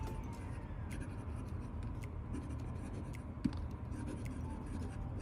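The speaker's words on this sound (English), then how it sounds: "Let's just go ahead and do some quick writing with it." An Esterbrook Noveau Bleu Standard fountain pen with gold trim and a Journaler nib writes on paper, giving a steady, soft, continuous scratching with one small tap partway through.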